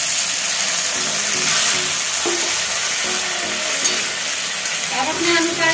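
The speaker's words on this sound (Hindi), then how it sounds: "तो ये फ्राई हो गया है मशरूम और मटर, अब मैं इसमें पानी डाल दे रही हूँ" Mushrooms and peas frying in a pan give a loud, steady sizzle, with a stirring scrape and a sharp hiss near the end as water is poured in.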